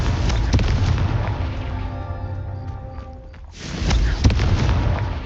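Confringo blasting spell in Hogwarts Legacy, a loud booming explosion with a rumbling roar that fades into a brief lull before a second burst of blasts and crackling debris; no talking.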